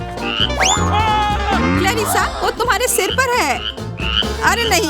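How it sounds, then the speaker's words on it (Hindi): Frog croaking in loud, close, warbling calls that repeat through the clip, overlapping excited voices of people talking during a Halloween prank. "यह मेंढक है।"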